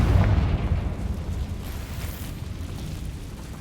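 A Confringo fire spell in Hogwarts Legacy bursts in a deep, booming explosion that rumbles loud up front and then trails off into a long low roar.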